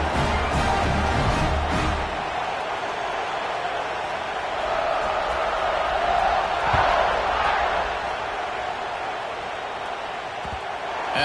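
A stadium crowd in a college football video game, NC State at Notre Dame, roars steadily for several seconds with a broad wash of cheering, and an announcer talks over it.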